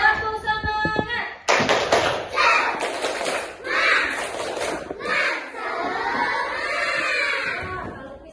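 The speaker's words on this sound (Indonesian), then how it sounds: "Tepuk semangat." Children in an Indonesian classroom perform a rhythmic clapping cheer, sharp hand claps and thumps in quick patterned bursts, with a teacher's voice and kids' voices mixed in across the room.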